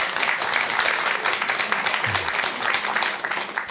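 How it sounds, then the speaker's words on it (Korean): Audience applause at a Buddhist dharma talk, a steady wash of many hands clapping that fills the whole stretch at moderate loudness, with no talk over it. "박수 한번 쳐주셔도 돼요."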